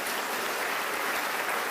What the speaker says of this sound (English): If you want to clap for the President, you can go ahead and do that, please.